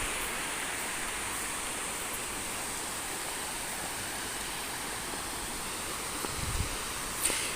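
A waterfall in Sukabumi, Indonesia, roars steadily from start to finish, a dense broadband rush of falling water with no voices.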